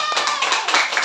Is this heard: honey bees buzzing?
no